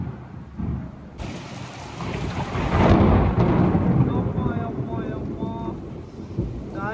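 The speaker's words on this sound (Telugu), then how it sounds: "ఫుల్ వాన అంతా ముచ్చుకొని వచ్చింది" Heavy rain drums hard on surfaces while a deep roll of thunder builds and rumbles, the downpour staying loud and steady throughout.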